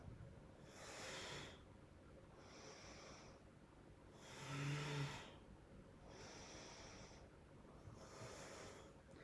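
Forceful rhythmic breathing during a Nabhi Kriya exercise gives five loud, hissing, snort-like breath bursts, evenly spaced about two seconds apart and heard close and alone.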